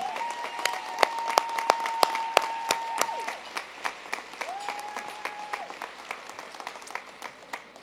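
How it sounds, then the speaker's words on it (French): Audience applause at a centenary celebration in Donnacona, with a crowd clapping in scattered, sharp claps over a quiet hall background while a sustained tone sounds and fades partway through. "Une bonne main d'applaudissement pour Alain, s'il vous plaît."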